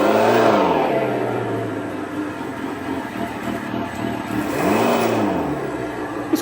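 An EVSMA-1 sound module on an electric motorcycle plays a synthetic engine note that sweeps up in pitch twice as if revving through first gear, then falls back, a loud, steady whine with no talk.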